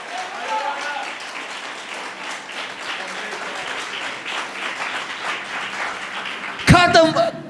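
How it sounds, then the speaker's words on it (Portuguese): Church congregation applauding during a worship service, a sustained burst of clapping with voices mixed in, ending in a louder loose flurry near the close. "Aplaude Jesus."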